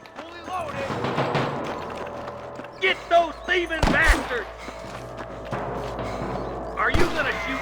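Gunfire in the western video game Red Dead Redemption: a few sharp, loud shots crack out among rustling, clanking in-game sounds, with a couple of bursts close together and another shot a few seconds later.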